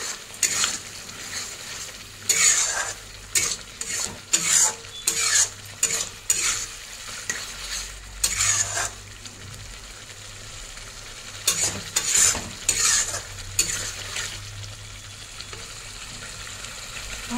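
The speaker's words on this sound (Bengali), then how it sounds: "এবার এটা ভালো করে কষাবো" Prawns and spice paste being sautéed in a pan for a jackfruit-prawn kofta curry, with repeated bursts of spatula scraping and stirring over a steady low sizzle, close and fairly loud, no talking.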